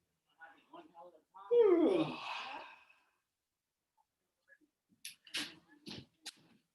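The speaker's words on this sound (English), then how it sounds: "And one more yawn." One close, quiet yawn from a person, a long voiced exhalation that fades out, followed after a pause by a few brief soft vocal sounds.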